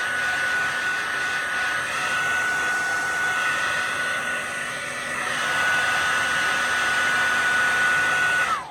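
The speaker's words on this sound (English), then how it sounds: "Oh, here goes the dryer." A hair dryer blows on paint in a mixed-media bear painting, a steady close whoosh with a constant motor whine, swelling slightly louder midway before cutting off at the end.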